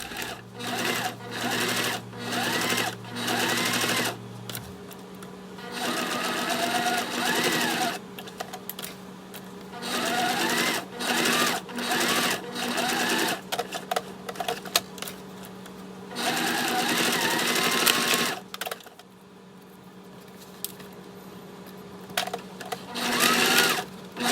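Sewing machine top stitching a fabric wallet card slot at an eighth-inch seam, running in repeated bursts of fast mechanical whirring separated by short pauses.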